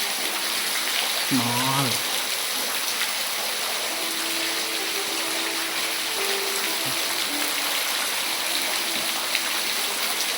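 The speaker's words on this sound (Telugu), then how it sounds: "ఇది కొండల్లో నుంచి వాటరు బయటకు వస్తుంది." Water seeps and trickles out of the rock inside a Chinese cave, giving a steady, soft hiss of flowing water throughout, with a brief spoken word near the start.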